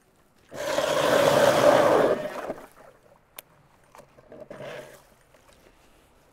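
An ION Alpha Plus electric ice auger spinning up and drilling through ice, a loud grinding whir for about two seconds, then quieter bursts as it winds down.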